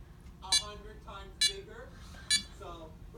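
An alarm clock with a red light gives three evenly spaced electronic beeps, each under a second apart, close by with a person talking in between.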